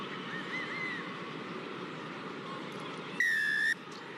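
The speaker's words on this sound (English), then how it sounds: "Shrill blast of the referee's whistle" A referee's whistle at a rugby union match in a large stadium, one short shrill blast rising sharply above the steady roar of the crowd.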